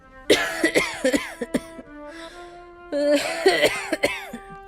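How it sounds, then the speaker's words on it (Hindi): An elderly woman's harsh, hacking coughs come in two bursts, several coughs each with throat-rasping sounds, close by and fairly loud, separated by a brief pause. "ये तो दादी के खांसने की आवाज है।"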